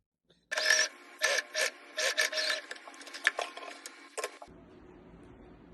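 Sewing machine stitching elastic onto a cargo pants waistband in quiet, close bursts of rapid clatter separated by short pauses, ending in near silence.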